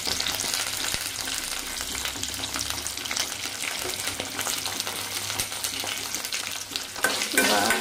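Chopped onions sizzle and crackle steadily in hot oil in a pan as they are stirred, for a Telugu village-style taro curry (chama dumpala pulusu). The frying is close and continuous, with no talk.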